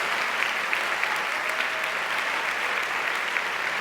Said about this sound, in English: let's give a huge round of applause to our fighters and our survivors